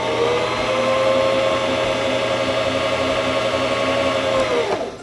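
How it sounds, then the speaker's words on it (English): A Singer Fashion Mate 5560 sewing machine winds a bobbin with a steady, close motor whine that holds for several seconds, then slows and cuts off near the end. "You can stop whenever you have enough thread for your project, or you can continue winding until the bobbin is full."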